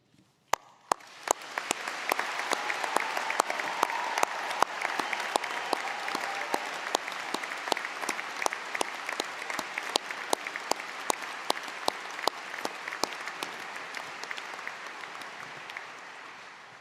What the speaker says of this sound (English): We need lots of loud and enthusiastic applause.